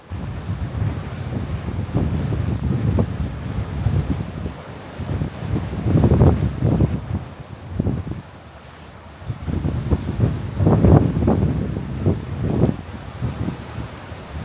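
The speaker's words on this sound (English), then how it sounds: "This is going to get very windy" Heavy wind buffets a microphone on the Costa Brava coast in Catalonia, with low rumbling gusts that swell and ease, with the wash of surf faintly underneath.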